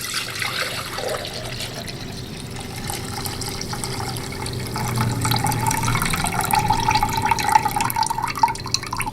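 Chicken bone broth pours steadily into a vessel with a gurgling, trickling flow that grows slightly fuller toward the end.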